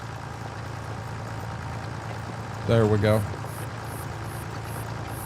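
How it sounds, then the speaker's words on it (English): A farm tractor engine idles steadily in the background at harvest and planting time, a low continuous rumble with a brief spoken phrase over it near the middle. "going to try to give you guys some tractor sounds."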